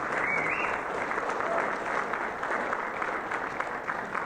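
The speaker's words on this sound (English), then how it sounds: "So a round of applause for the Shai Tepetat." An audience at an education conference claps steadily and densely for several seconds, a broad even roar of many hands that neither builds nor fades, heard from within the hall with no voices on top.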